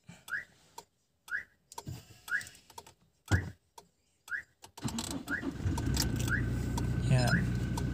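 A car engine is cranked and catches partway through, rising into a steady running rumble, after a series of short rising chirps at a regular pace; a voice talks over the earlier part.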